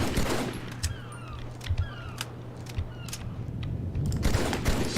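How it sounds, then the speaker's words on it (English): Gunfire in the Halo video game, rapid bursts of sharp shots crackling over a steady game background hum, fairly close, with no one talking. "I want to do some like shooting"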